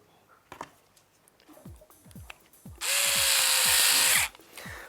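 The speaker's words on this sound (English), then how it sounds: "with the power of the drill, it can turn the screws too much" A power drill drives screws into a Mirai frame during office assembly work. A few light taps and handling knocks come first, then one loud, steady whir that lasts about a second and a half and stops abruptly.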